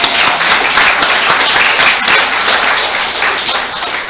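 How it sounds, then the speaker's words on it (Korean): A church congregation applauding together at a Korean midweek worship service, steady dense clapping that fills the room at full loudness for several seconds without talk. "우리 성령에 대해서 특별히 말씀해 주셔서 너무 격려 박수를 좀 드릴까요?"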